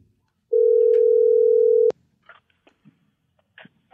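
Telephone tone heard while a call is being placed, a single steady loud tone lasting about a second and a half that cuts off sharply, followed by faint clicks and brief noises.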